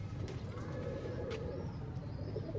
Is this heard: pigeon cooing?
yes